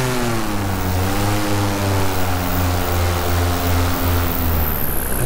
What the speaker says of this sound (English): there's a plane buzzing the Flatiron with smoke